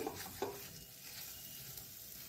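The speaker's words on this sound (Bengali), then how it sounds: "ভালো করে কষিয়ে নিতে হবে আমার মশলাটা প্রায় ভাজা হয়ে এসেছে" Spice masala for egg korma fries quietly in a pan, a soft steady sizzle with a couple of brief stirring scrapes at the start, faint and close with no voices.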